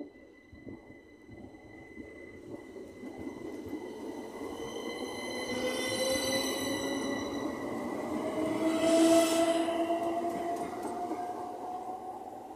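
A Southeastern passenger train of the 375 class passes through Maidstone West station, a rumbling roll building steadily with rising wheel and motor whine and a brief high squeal near the end, moderately distant, no talk.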